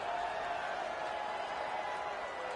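A video game football stadium crowd buzzes after a score, a steady, distant roar of many voices with faint cheering that holds at an even level throughout.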